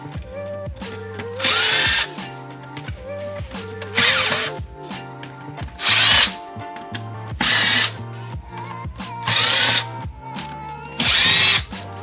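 A power driver with a T20 bit spins out fasteners on a BMW F8X front-mount intake, with six loud whirring bursts of about a second each, separated by clinks and rattles of handling parts.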